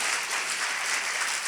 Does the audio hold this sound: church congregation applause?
yes